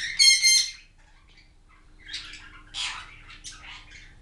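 Pet budgies in an indoor bird room give a sharp squawk followed by several scratchy chirps and chatter, near and fairly clear against a quiet room.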